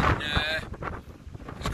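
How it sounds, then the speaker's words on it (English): Heavy wind roars and thumps against the microphone in a brief burst on a hilltop in Galloway, with a voice briefly audible underneath. "it is very, very windy up here at the moment"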